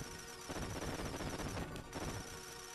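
Enemies shooting at the player in Kirby Super Star, a dense, steady barrage of rapid game gunfire and blasts lasting throughout, loud and continuous with a brief harsher crash near the end.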